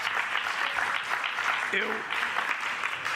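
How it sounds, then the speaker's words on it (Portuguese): Audience applause at a meeting between the president of Brazil and the president of the government of Spain: a steady wash of clapping that fills the clip, with a brief voice or tone rising above it midway. "Então vocês, por favor, batam palmas."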